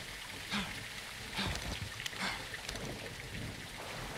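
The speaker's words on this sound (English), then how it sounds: "It's raining fucking hard." Heavy rain pours in Call of Duty Modern Warfare 2, a steady, dense hiss of downpour filling the scene throughout, with a few slightly louder gusts and no voices.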